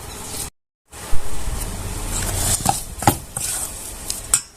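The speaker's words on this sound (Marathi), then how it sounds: "साखर घालून घ्यायची इथं आणि छान असं हलून घ्यायचं" Sugar being stirred into a homemade barfi mixture of flour in a pan, with scraping and light clinks of a spoon against the vessel, a brief gap, then irregular louder knocks toward the end.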